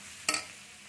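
A splash of water hits a hot pan of fried potato, spring onion and khesari lentil fritter masala, a single short sizzling burst up close that quickly settles into a faint background hum.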